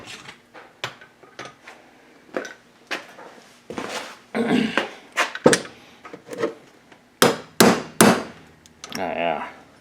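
A hammer strikes metal in a run of sharp, close taps and heavier clanks, driving a part into a VW buggy link-and-king front beam during a rebuild, with uneven pauses between blows.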